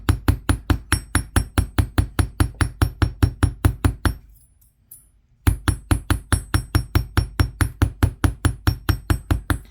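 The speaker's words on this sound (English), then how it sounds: "And I'm only hammering on one side." Aluminum craft wire is struck with a hammer to texture it: fast, evenly spaced metallic taps ring out close by, stop for about a second, then resume at the same steady rhythm.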